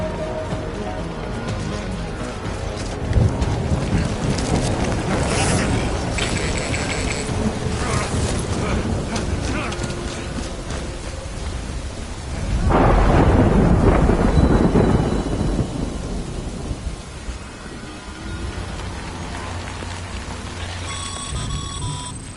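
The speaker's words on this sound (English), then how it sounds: "Good thing it was raining." Heavy rain pours steadily in the game Death Stranding while deep thunder rumbles and swells, with one loud rolling crack midway that fades back into the constant downpour; faint voices speak briefly.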